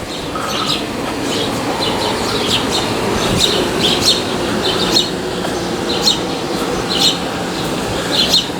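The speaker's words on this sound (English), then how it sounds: "And listen to the birds chirp." Birds chirp outdoors in short, repeated high tweets roughly once a second over a constant low rumbling background.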